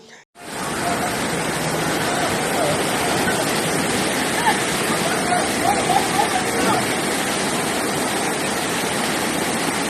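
Thamirabarani river floodwater rushing past in the Tirunelveli–Thoothukudi area, strong enough to overturn cars; a loud, steady, broadband roar fills the whole stretch without letup.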